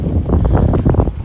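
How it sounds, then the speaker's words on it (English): Strong wind buffets the microphone outdoors in Tombstone, Arizona, a loud, continuous rumbling roar with gusty surges and no speech. "It is super windy today."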